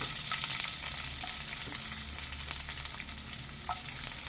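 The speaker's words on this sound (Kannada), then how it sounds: "ನೋಡಿ, ಇದೇ ಎಣ್ಣೆಗೆ ಇವಾಗ 10 ರಿಂದ 12 ಎಸಳು ಬೆಳ್ಳುಳ್ಳಿನ ಹಾಕೋತಾ ಇದ್ದೀನಿ. 2 ಇಂಚು ಶುಂಠಿ," Garlic cloves and ginger sizzle in hot oil in a pan for roasted tomato soup, a steady close crackling hiss with faint stirring taps throughout and no talking.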